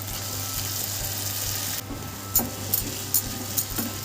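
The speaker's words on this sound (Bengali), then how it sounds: "এবার বেটে রাখা শিম আর কাঁচা লঙ্কার পেস্টটা এর মধ্যে দিয়ে দেব" Mashed bean and green chili paste sizzles steadily with onions in a hot pan, with scraping stirs and sharp clatters of the spoon near the end.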